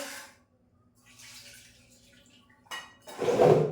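Tap water runs briefly into a home kitchen sink as hands are rinsed during chicken preparation, with a short splash near the start and a louder, closer gush at the end.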